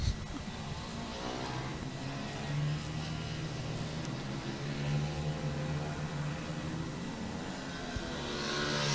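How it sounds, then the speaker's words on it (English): Junior racing karts on the Lydd circuit: a steady, fairly distant buzz of small engines with revving swells, growing slightly louder toward the end, no speech. "He literally just managed to drive straight past Bailey"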